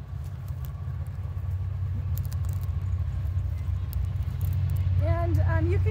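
A steady, low engine rumble of heavy traffic rolls on continuously, with a voice starting to speak near the end.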